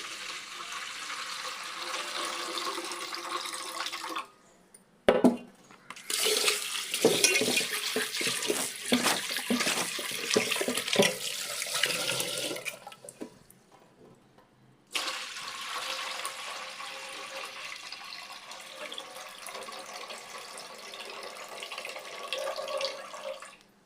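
Running water pours and splashes into a container of rice being washed, steady at first, then broken into uneven sloshing and trickles before flowing again.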